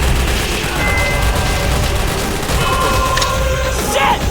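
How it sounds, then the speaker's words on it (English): Loud, dense battlefield din from a Call of Duty campaign, with continuous gunfire and rumbling explosions forming a steady barrage throughout, sharp sniper-like cracks rising briefly near the end. "Sniper fire!"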